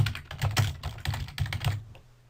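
Rapid keystrokes on a computer keyboard while editing text on a website, a close, steady burst of clicks for about two seconds that stops near the end.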